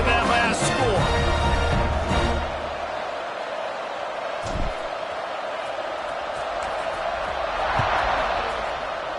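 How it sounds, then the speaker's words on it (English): In a college football video game, the stadium crowd keeps up a steady, distant murmur under continuous play-by-play commentary, with a louder rush of noise at the start. "this crowd is buzzing after that last score"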